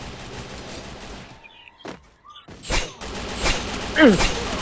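Gunfire in a shooting video game: a few separated bursts of shots, close and sharp, with short gaps between them, alongside game effect tones.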